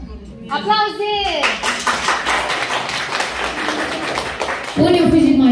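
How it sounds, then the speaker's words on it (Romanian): Applause from a small gathering at a birthday celebration in a village, mixed with excited voices, including a child's. Rising cries open the moment, and the clapping blends with loud chatter. "Aplauze!"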